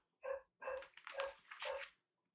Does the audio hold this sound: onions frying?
no